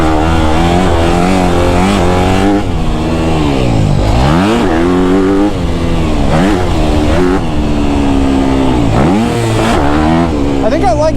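A 2024 Honda CRF250R dirt bike engine revs hard while being ridden. It is loud and close, and its pitch repeatedly climbs and drops as the throttle opens and closes, with a grunty, continuous roar throughout.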